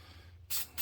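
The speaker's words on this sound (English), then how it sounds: "Then I'll give her another little spray" Spray paint is applied to Brembo brake calipers on a 1978 Plymouth Volare Roadrunner clone in two short, loud hissing bursts, the second starting after a brief pause, over a low steady hum.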